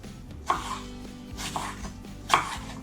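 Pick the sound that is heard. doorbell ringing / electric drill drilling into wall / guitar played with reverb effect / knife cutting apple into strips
knife cutting apple into strips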